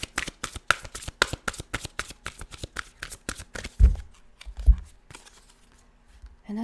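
Tarot cards being shuffled in quick, crisp riffling bursts, a steady run of snappy flicks for about four seconds, then a few isolated card thumps and slaps on a table, close and alone.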